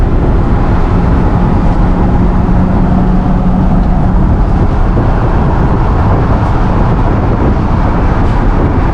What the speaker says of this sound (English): First drive in your V8 swap truck, brother